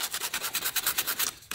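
Sandpaper rubs back and forth over a wood carving in quick, even strokes, a close rasping scrape repeating about eight times a second, alone without talk.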